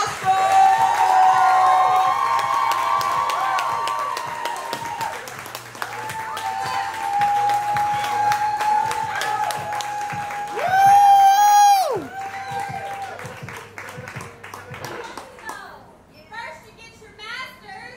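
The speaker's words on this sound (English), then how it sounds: "I want y'all to go ahead and start clapping all the way up to the stage for Ryan" An audience at a spoken-word poetry anniversary show claps and cheers for a performer walking to the stage, a steady loud wash of applause with whoops rising near the end, while a voice talks over it.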